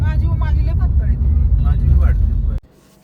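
A traffic jam of cars held up behind one stopped vehicle makes a loud, close, low engine rumble under a voice, then cuts off abruptly near the end.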